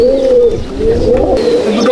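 Andhra pigeons in a loft coo in steady, overlapping low rolling calls, close and fairly loud with no pauses.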